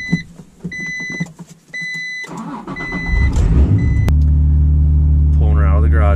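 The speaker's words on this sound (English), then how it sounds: "We're gonna try to start her up." Acura NSX being started: a chime beeps a few times, a person talks, then the starter cranks and the engine catches into a loud, steady idle close by.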